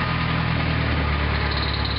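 A long-tail boat engine drones steadily and loudly throughout on a ride to a floating market in Bangkok, a constant low rumble with a rough mechanical hum and no talking.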